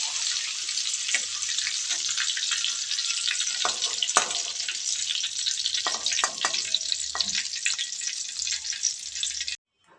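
Melted butter and oil heat in a pan, producing a dense, even high hiss of sizzling fat with occasional knocks and scrapes from a utensil, close up, ending abruptly near the close.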